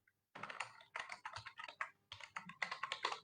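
Quiet typing on a computer keyboard, rapid bursts of keystrokes in several short runs with brief pauses between them, heard alone.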